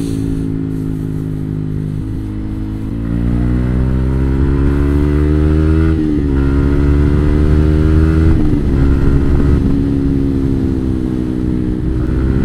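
A new motorcycle's engine hums steadily at close range while riding the Marilaque highway, its pitch rising and falling as the rider shifts and throttles, with no talking.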